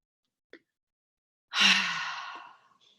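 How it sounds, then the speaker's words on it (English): A single long exhale through the mouth during a breathing meditation, close and breathy, trailing off gradually after a faint earlier click. "Exhale through your mouth."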